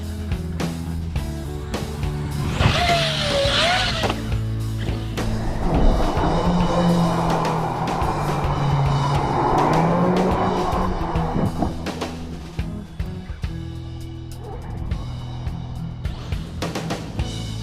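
An Arrma Kraton V4 6S monster RC truck drives over ramps set across a gully outdoors, its electric motor rising in a sharp whine, then roaring and scrabbling across the ground before easing off.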